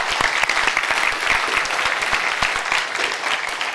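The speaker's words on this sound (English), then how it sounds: "let's give them a round of applause" An audience at the Fraser Valley Economic Summit keynote gives a brief, dense round of applause, a busy wash of many hands clapping together for a few seconds without any speech.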